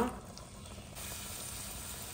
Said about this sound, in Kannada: ನೀರುಳ್ಳಿ ಕೊಚ್ಚಲು ಹಾಕುವ.